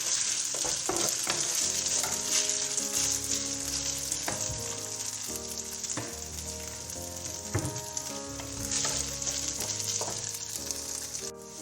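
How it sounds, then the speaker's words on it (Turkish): Two glasses of raw rice toasting and being stirred in a pot for chicken pilaf, giving a steady, close sizzle with scraping stirs throughout, while music with a clear melody plays over it and no one speaks. "Tane tane birbirinden ayrılana kadar kavuracağız arkadaşlar."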